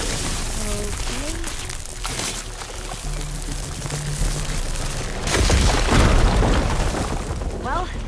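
A fire gleam explodes in Horizon Forbidden West, a loud, heavy blast that swells for about a second amid game ambience, with a voice speaking briefly beforehand.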